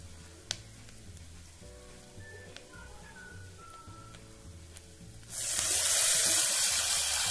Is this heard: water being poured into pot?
yes